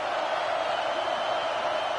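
A packed football stadium crowd roars loudly and steadily, a dense wall of cheering fans inside the building with no letup across the moment.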